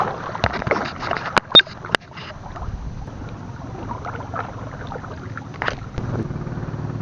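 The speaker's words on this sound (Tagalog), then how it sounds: "Yun lang, may papalapit na bangka." A boat draws closer across the water, its low steady hum rising faintly beneath wind and a few sharp knocks and bumps nearby.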